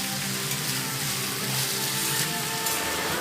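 Ridge gourd pieces frying in a pan over high heat, a dense, even hiss and sizzle that holds steady from start to finish, close and unbroken by speech.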